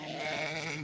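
A single sheep on a farm gives one short, wavering bleat, close and clear, with no talking.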